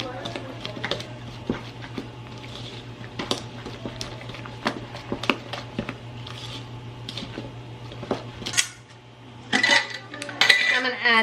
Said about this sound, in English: we're just going to stir this all together